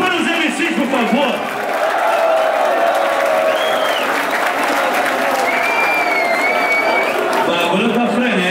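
At a rap battle, the crowd applauds and cheers for the MCs in loud, sustained clapping mixed with shouts and whistles that swell and hold throughout, with a host's voice calling out over the noise.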